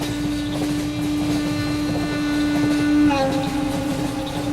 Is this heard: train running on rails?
yes